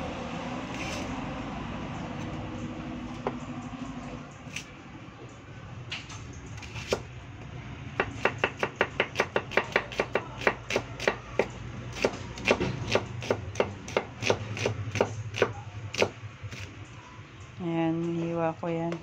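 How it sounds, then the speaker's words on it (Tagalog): A knife slices a large onion on a cutting board for Filipino beef steak, with a fast, even run of crisp close taps that starts after some quieter handling and ends under a voice. "i-slice naman tayo ng sibuyas na another 1 big"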